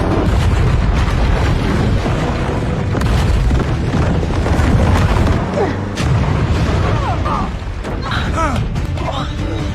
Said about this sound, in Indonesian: lolos dari ledakan terowongan barusan